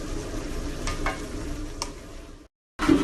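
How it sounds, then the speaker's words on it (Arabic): Raisins and currants fry in fat in a pot, a continuous close sizzle with soft stirring scrapes, briefly cut off before the sizzle returns. "ليش ضفت الكشمش اول شيء؟ لان ابي ينقلي بالدهن"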